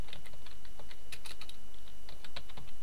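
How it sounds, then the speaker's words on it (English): Keys tapped on a computer keyboard, a quick run of crisp clicks at close range with short pauses between bursts, alone without talk. "for the title, I'm going to type in invalid"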